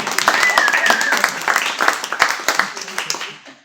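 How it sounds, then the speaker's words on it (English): A Unity church congregation in Flagstaff applauds warmly for its community, a few seconds of lively clapping mixed with cheering voices that tapers off at the end. "I want a round of applause for this community."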